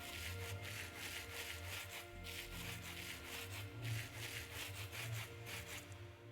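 Rose quartz being polished with sandpaper in Minecraft, a repeated rhythmic scraping rub in short strokes, steady and fairly close, with no talking.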